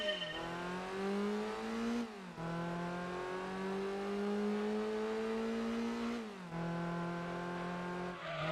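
A Honda Integra in Gran Turismo 2 revs through its gears, engine pitch climbing steadily then dropping sharply at two shift points, a close, continuous synthetic engine drone with no talking.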